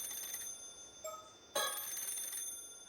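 A telephone in the video game Paranormasight starts ringing, a faint electronic trill that cuts in once and then swells into a louder continuous ring, alone with no talking.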